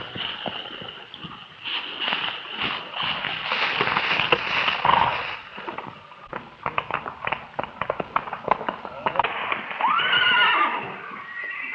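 Horses whinny loudly while hooves clatter in quick, uneven bursts nearby, the neighing returning near the end.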